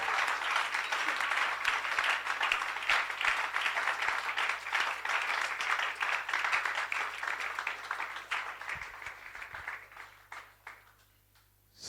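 A church congregation applauds during a live worship service, steady dense clapping holding for about ten seconds before thinning out and fading near the end.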